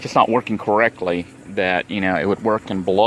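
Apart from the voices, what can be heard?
None of the usual background noises is heard.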